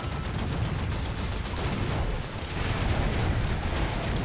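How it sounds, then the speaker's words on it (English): Rapid, dense gunfire from the twin-stick shooter Assault Android Cactus, a continuous loud barrage of blasts and explosions with no pauses, filling the whole stretch. "I'm just shooting like a wild animal."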